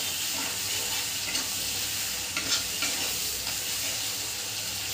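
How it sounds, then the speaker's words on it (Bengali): Garam masala frying in a pan for a shrimp dish gives a dense, continuous sizzle with faint scraping from stirring, close and fairly loud throughout. "এই গরম মশলাগুলো এর সাথেই বেশ কিছুক্ষণ ধরে ভেজে নেব।"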